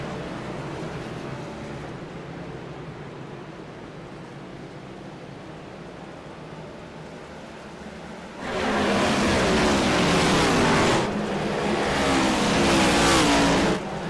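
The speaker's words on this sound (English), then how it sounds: "Tiller on the throttle, spinning the tires all the way down the front stretch" Race car on the Bristol dirt track, throttle open and tires spinning down the front stretch during an All-Star race restart: a loud, broadband engine roar swells abruptly after a quieter stretch of distant track noise and holds steady.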